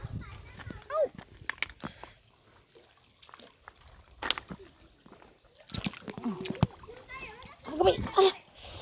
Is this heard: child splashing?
yes